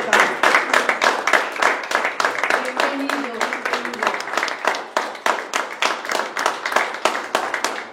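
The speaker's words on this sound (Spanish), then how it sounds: "Le damos un aplauso" An audience at a Spanish-speaking gathering claps steadily in a lively, rhythmic round of applause that lasts throughout, with a brief voice heard partway through.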